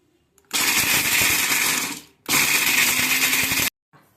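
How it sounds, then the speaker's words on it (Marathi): A kitchen mixer grinder grinds dry dates (kharik) into fine powder in two loud, steady bursts of whirring and rattling, about one and a half seconds each, with a short pause between them and no voices. "मिक्सरमध्ये टाकायचं आणि थोडी खा खारीक हे दोन्ही मिक्स करून काढले ना तर सहज बारीक होऊन जाईल"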